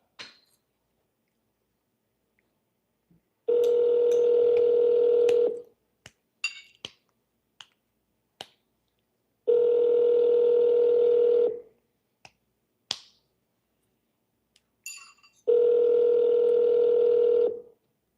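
Phone handset tones in a cold-calling session, three long steady tone bursts of about two seconds each separated by silence, with faint clicks between them and no talking.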